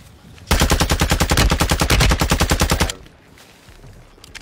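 A long, loud burst of rapid automatic gunfire in a shooter video game, roughly two dozen evenly spaced shots over about two and a half seconds before cutting off to quiet background.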